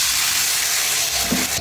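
Garlic frying in a hot pan for a Malaysian chilli fish dish, a steady broadband sizzle throughout with a brief clatter near the end and no talk.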